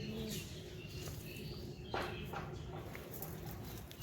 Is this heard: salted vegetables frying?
no